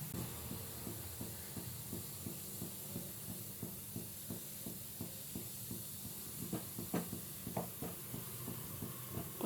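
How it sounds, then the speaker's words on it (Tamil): Ginger pieces frying in sesame oil in a kadai, a soft steady hiss with quick repeated sizzling pops and crackles, faint and continuous without talk. "அதுக்கப்புறம் கடாயில் எண்ணெய் ஊற்றிட்டு இஞ்சியை போட்டு ஃப்ரை பண்ணலாம்."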